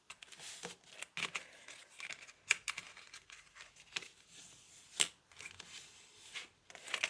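Scored paper card panels for a winter birthday diorama card are folded by hand, giving a run of soft crinkles, creases and papery rustles with a few sharper crisp snaps, close and fairly quiet with no talk.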